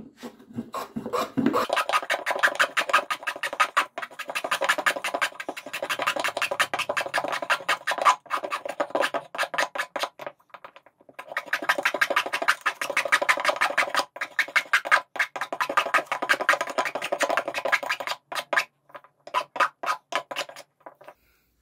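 A hand file rasps in quick, rhythmic strokes to round over the edge of a homemade sharpening jig. The sound is close and steady, with a few short pauses between bursts.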